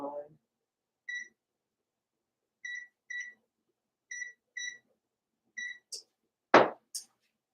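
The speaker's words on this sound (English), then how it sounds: "Okay, I'll put the timer on." Kitchen oven timer being set while pecan pie dessert bars bake: short, high electronic beeps come singly and in quick pairs at a steady pace, followed by a brief rustle near the end.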